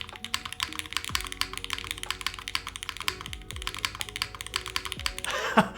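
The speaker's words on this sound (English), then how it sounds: "this keyboard sounds delish, bro" Fast, steady typing on a custom Forever65 mechanical keyboard, crisp clacky keystrokes in quick succession close up, with faint background sounds and a brief louder burst near the end.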